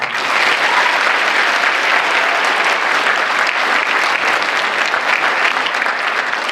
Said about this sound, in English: let's give another round of applause to Chad now